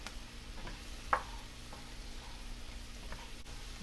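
Sliced white mushrooms fry quietly in a pan, giving a soft, steady sizzle with a single sharp utensil tap partway through.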